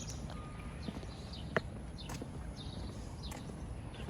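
Faint hoof clops and scattered footsteps outdoors, with a sharp knock near the middle, under steady background noise and occasional bird chirps.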